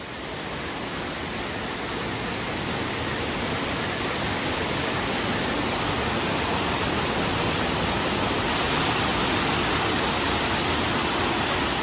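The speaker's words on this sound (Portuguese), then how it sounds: "Vamos passar por trás de uma cachoeira." A waterfall in a large hotel's indoor garden, heard from the walkway behind the falling water as a loud, constant, broadband rush that fills the whole stretch without pause.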